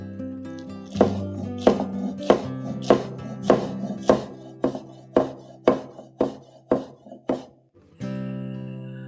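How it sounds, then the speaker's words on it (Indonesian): A knife chops spring onion leaves on a board, about a dozen crisp, evenly spaced strikes close up, followed by a brief scraping rustle at the end. "selanjutnya kita potong daun bawang"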